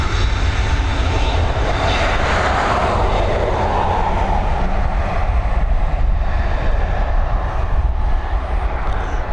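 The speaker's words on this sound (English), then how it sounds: "And then we've got an A330 again with the old livery." Airbus A330 airliner in old livery at Dublin Airport, a loud, close jet engine roar with a rising then sweeping whine as it passes, sustained for the whole stretch.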